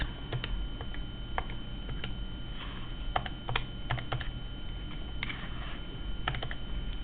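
Keys on a graphing calculator keypad are pressed in quick, irregular bursts of light plastic clicks, close and fairly quiet over a low steady hiss, with no talking.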